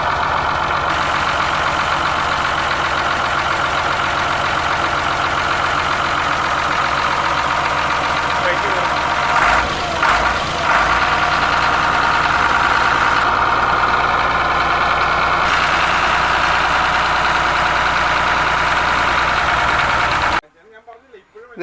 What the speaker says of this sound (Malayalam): ആ ലൈലാൻഡിൻ്റെ സൗണ്ടൊക്കെ കേട്ടില്ലേ, നല്ല സൂപ്പർ സൗണ്ടാണ്.